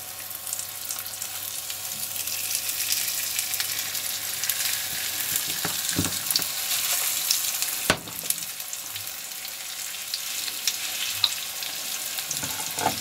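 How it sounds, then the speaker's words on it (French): Lamb chops fry in olive oil in a hot pan, giving a steady, close sizzle throughout with a couple of brief clinks and pan knocks, no voices. "je vais mettre les côtes d'agneau dans la poêle chaude avec l'huile d'olive"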